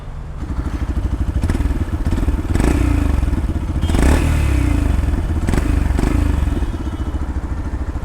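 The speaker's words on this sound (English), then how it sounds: "So let's hear the exhaust note." A single-cylinder 150cc Yamaha FZ-X motorcycle engine idles and blips its throttle, a steady thumping exhaust note rising in a few brief revs before settling back.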